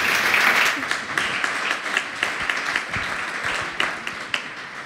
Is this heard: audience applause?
yes